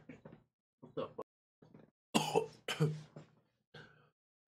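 A short series of muffled, close coughs and throat-clearing bursts, with a pair of louder harsh coughs in the middle, separated by brief silences.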